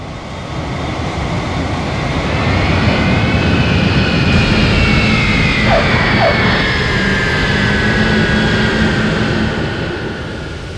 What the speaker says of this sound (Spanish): el vuelo RQ-4401 de Cam Air, procedente de Kabul, realizó un aterrizaje suave en la pista